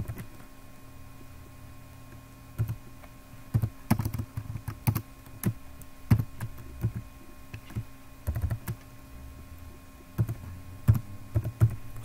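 Keys clack on a computer keyboard in short irregular bursts, close and fairly quiet over a steady low hum.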